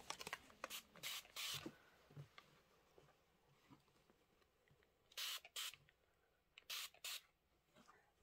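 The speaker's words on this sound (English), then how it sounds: "give it a squirt of Best Press from the back" A pump bottle of Best Press starch spray hisses onto quilt fabric in several short, sharp bursts. Two come close together early on, then a pair and another pair follow after a pause, against quiet room noise and faint handling sounds.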